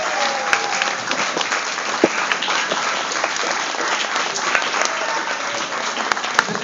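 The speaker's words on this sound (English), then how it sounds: "give them a round of applause" A large audience at an Israel Bonds tribute event claps steadily, a dense, loud wash of applause holding evenly throughout.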